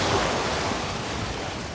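Broad, continuous wash of sea waves and surf at Baga Beach in Goa, loud and close, with wind rushing across the microphone and no speech.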